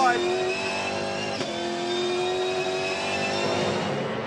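V8 Supercars race on the Tasmania track on Dunlop soft tyres, a loud, sustained engine drone with shifting pitch as the cars pass, under commentator speech.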